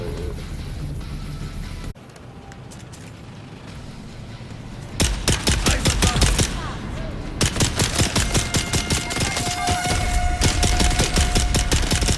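Gunfire from a pistol in Dune Awakening, preceded by a sharp crack and background game noise, then a long run of rapid, evenly spaced loud shots close by.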